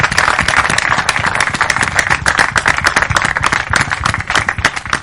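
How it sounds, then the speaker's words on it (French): Enthusiastic applause from a talk-show studio audience, dense and continuous clapping at full volume throughout. "Bienvenue à tous sous vos applaudissements"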